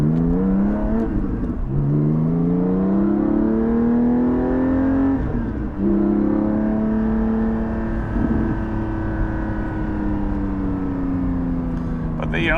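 Inside a Porsche 718 GT4 fitted with a Soul exhaust, the engine pulls hard through rising revs with a loud, continuous cabin drone and a brief dip as it shifts, and a voice speaks over it.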